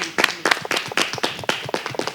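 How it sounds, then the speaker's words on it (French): Applause-like clapping in a French television studio show, a run of sharp, fairly loud claps in an uneven rhythm with several sources overlapping, close and clear, with no speech over it. "tes applaudissements m'inquiètent"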